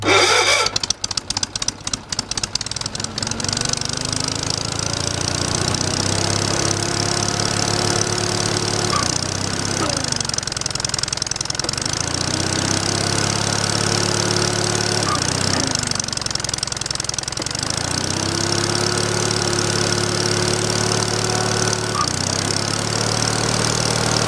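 Cold wood splitter engine started on choke: a quick burst of rapid pull-start chugs, then the small engine catches and idles steadily, loud and close, with rhythmic surges.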